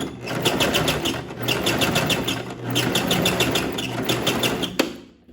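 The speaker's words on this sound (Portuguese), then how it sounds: "Para que essa costura fique bem reforçada, visto que eu tenho aqui as tiras em que eu vou amarrar na minha cintura, então eu vou dar retrocesso aqui" A sewing machine stitches back and forth over fabric waist-tie straps on a belt sash, a steady close mechanical whir with rapid rhythmic needle ticks, pausing briefly twice between runs and ending with a sharp click before stopping.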